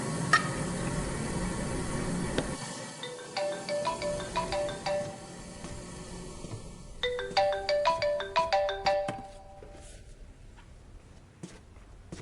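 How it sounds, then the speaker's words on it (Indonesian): A mobile phone ringtone plays a bright, repeating melodic chime in short bursts over faint kitchen sounds of stirring and sizzling, with quiet gaps between the phrases. "Ponselmu berdering."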